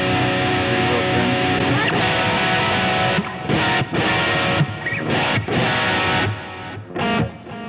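Electric guitar run through a NUX Trident pedal with reverb ahead of delay, a thick distorted sustained tone that gives way to choppy strummed bursts and short gaps, loud and close with echoing tails.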